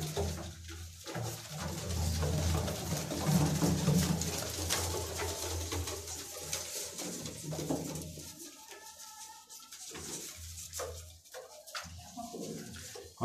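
Slate-coloured domestic pigeons kept by a pigeon fancier in Lahore coo in low, throaty, repeated calls close by, with shuffling and background noise around them.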